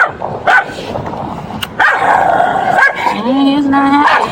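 A scared dog barks and yips in hot outdoor weather, several sharp close barks spread across the stretch with whimpering tones between them.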